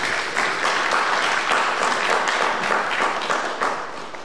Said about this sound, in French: Je pense qu'on peut applaudir ces personnes-là.